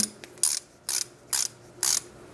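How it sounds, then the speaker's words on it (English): A socket ratchet is twisted in four short bursts of rapid metallic clicking, evenly spaced about half a second apart with quiet gaps between, close and clear with no voices. "the beauty of sockets and ratchets are that you can keep twisting it"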